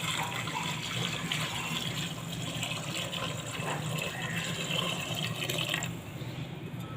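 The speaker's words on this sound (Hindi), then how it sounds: "अब हम इसमें डालेंगे 2 लीटर पानी।" Two liters of water poured into a pot of fried spices, a continuous loud rushing gush that runs steadily for several seconds, close up with no voices.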